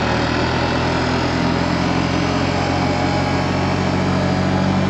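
A Honda Rancher 350ES ATV being ridden down a road, its engine a steady, loud, continuous drone that holds at an even pitch with no pauses.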